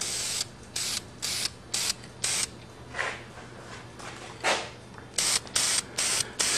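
Spray can painting a go-kart steering spindle in short systematic strokes: a run of crisp, regular hissing bursts, a couple of longer softer sprays in the middle, then more quick bursts, close and without speech.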